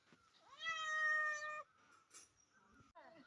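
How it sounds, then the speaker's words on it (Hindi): A cat meows once, a drawn-out and fairly close cry in a quiet home, followed by a few faint rustles and a short second call at the end. "पहली बार बिल्ली हमारे घर पे आई।"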